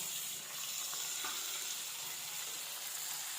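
Tomato and ground masala sautéing in a pan after softened onions, giving a soft, steady sizzle with faint scrapes of stirring and no voices.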